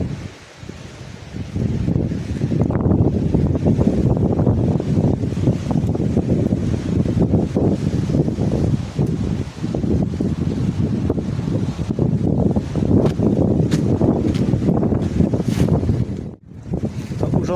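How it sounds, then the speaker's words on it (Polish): Steady roar of wind buffeting the microphone over the wash of Adriatic Sea surf at Senigallia, loud and continuous, briefly dipping near the end. "A tak pięknie szumi wiatr i Adriatyk w Senigali"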